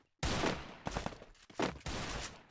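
Gunfire in the Free Fire mobile game comes as several loud, close bursts of rapid shots, separated by short gaps.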